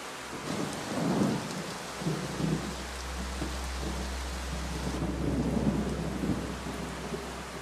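Heavy rain pours steadily in the Amazon rainforest while deep thunder rumbles and rolls beneath it, swelling and fading in long waves.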